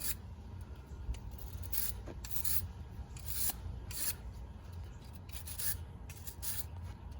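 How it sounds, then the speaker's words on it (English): Rhythmic wire-brush scrubbing of rust off a rusty bolt from a 2002 Ford Escape XLT front bumper, close and steady with repeated rasping strokes and no talk. "Kind of clean them. wire brush them, get the rust off them."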